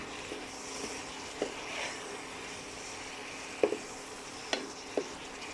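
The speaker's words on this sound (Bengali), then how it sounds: "বেশিক্ষণ সময় লাগে না মিষ্টি কুমড়াটা ভাজতে" Sweet pumpkin pieces seasoned with salt and turmeric frying in a pan, a faint low sizzle punctuated by a few light spatula clicks and stirs.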